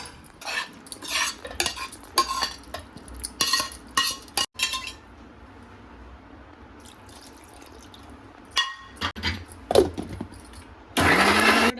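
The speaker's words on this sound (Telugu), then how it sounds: "ఇది మిక్సీ పట్టేద్దాము" Clinking utensils and scraping come first; then a mixer grinder starts up loud and harsh in the final second, churning cooled bottle gourd pulp.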